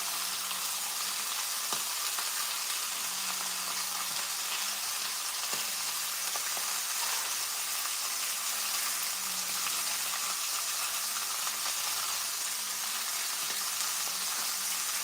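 Butter melts and sizzles in a hot skillet, giving a continuous, even frying hiss that stays steady and close, with faint scraping now and then and no voices.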